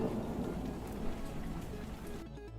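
Steady rain with a low rumble of thunder, a sound effect made for a video game, running evenly before the thunder drops away and lighter rain remains.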